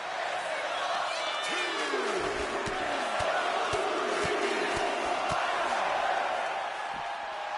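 Arena crowd in the WWE 2K26 wrestling video game roars continuously, loud and dense, with repeated rising whoops and periodic thumping slams from the ring, under a commentator's talk.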